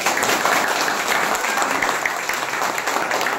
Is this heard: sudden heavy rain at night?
no